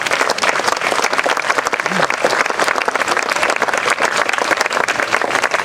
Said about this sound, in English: So a big round of applause for Serhiy and for Suzira.